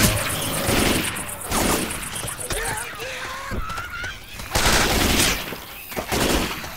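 Gunshots in the video game Left 4 Dead 2 crack in several loud bursts amid game noise, with a character's voice talking over the action.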